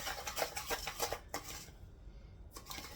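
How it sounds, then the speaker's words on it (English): A fork scraping and clinking against a bowl while mixing spices for an everything-bagel-style seasoning, rhythmic rubbing strokes that pause briefly midway, close and fairly quiet. "I'm going to mix everything together with my fork"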